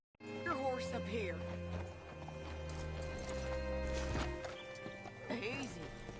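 Horse hooves clip-clop steadily up close, with harmonic voices and tones layered over them and a brief whinny near the end.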